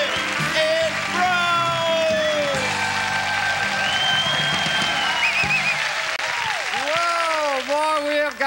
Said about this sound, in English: we have got the audience applauding today